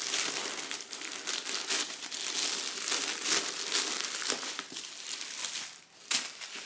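Tissue paper from a Chanel ready-to-wear runway package crinkles and rustles almost continuously at close range, with brief louder crumples throughout.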